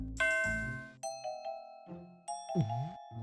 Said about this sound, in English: Hey, a random hut. Can we ring the bell?